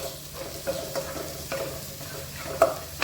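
Onion and tomato are sautéed in a pan for kothu parotta, a soft sizzle under repeated clicking taps and scrapes of a spoon stirring, close and moderately loud.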